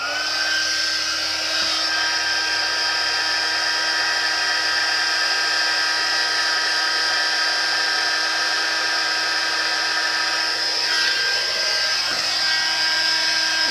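A heat gun runs steadily and alone while warming up away from a greeting card for embossing, giving a constant whirring drone with a bright whine at a near, even level throughout.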